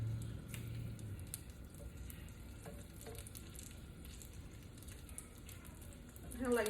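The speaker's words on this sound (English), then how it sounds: "We're going to put our asparagus in here" Asparagus sizzles in melted butter in a skillet with a steady, soft crackling hiss that carries on throughout, with some stirring and a brief louder shuffle at the end.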